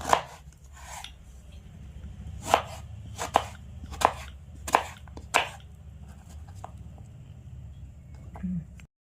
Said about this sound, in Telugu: పొట్టు తీసేసిన దాన్ని చిన్న చిన్న ముక్కలుగా కట్ చేయాలండి